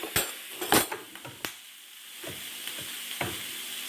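Chopped tomato with taco powder sizzling in a pan, a steady hiss broken by several sharp clatters and scrapes of stirring, close and moderately loud, with no talk.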